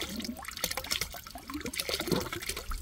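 Air forcing very hot water and steam out of a blocked cold feed pipe in a home heating system, a gurgling, spluttering rush of liquid with bubbling bursts, close and fairly loud.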